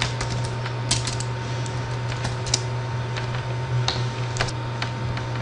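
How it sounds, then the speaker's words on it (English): Fingers tap out a name on a computer keyboard during a Windows 2000 install, a steady run of light clicks with small pauses, set over a constant low electrical hum. "Type in my name"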